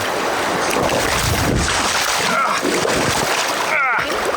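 A hiker falls while crossing a river on a rugged wilderness trail, setting off a brief, splashy burst of water close to the microphone amid rushing current and wind buffeting. A voice talks over the water noise.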